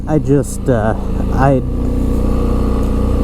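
A 2005 Honda Rincon 650 4x4 ATV engine runs in second gear with a steady, close mechanical hum. Someone talks over it at first, then the engine drones on alone.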